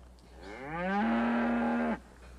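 A single long cow moo from a herd of cattle in a Western ranch setting, rising in pitch, then holding steady for about a second before cutting off, clear and close with no talk.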